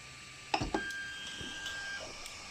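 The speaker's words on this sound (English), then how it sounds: "You're going to go down to prepare, second option, and then auto home." Ender 3 Pro 3D printer auto homing: a couple of sharp mechanical clicks followed by a faint, steady electronic tone and soft motor whirring, fairly quiet and close, with no talking.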